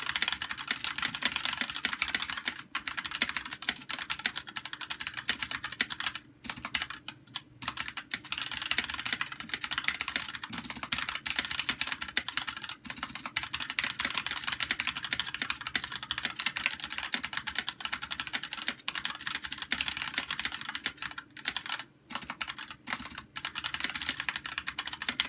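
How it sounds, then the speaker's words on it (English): Rapid, continuous typing on a Magicforce68 mechanical keyboard with Gateron Clear 35-gram linear switches, smooth soft keystrokes clacking in a steady stream with brief pauses, heard up close. "Gatoron clears are a 35-gram linear switch, and here is a typing video with sound"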